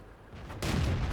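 A single heavy tank cannon shot in a tank battle video game booms loud and close, after a brief rumbling lead-in.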